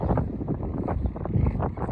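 Steady wind buffeting the microphone outdoors on sunny, high ground at Stone Point, with low rumbling gusts, loud and close, no voices.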